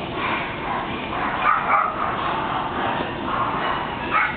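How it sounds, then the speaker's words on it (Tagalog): A dog barks and yips repeatedly in short bursts, fairly close, over a steady background with little talk. "Ayun yung aso."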